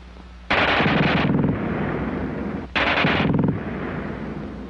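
A German Schmeisser submachine gun fires two long, rapid full-auto bursts, loud and close, each lasting about a second, separated by a short pause, with no talk over them.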